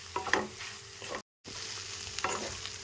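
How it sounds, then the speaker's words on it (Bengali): Fried greens being mixed into potato curry in a pan, a quiet sizzle with a few scraping stir strokes and a brief gap of silence partway through. "এবার আমি এরপর দিয়ে দেবো ভেজে রাখা ডিমের শাক ডিমের শাকটা দিয়ে এর সাথে আমি মিক্স করে নেবো"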